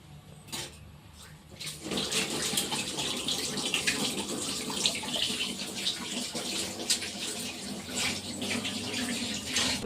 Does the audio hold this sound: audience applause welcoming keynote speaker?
no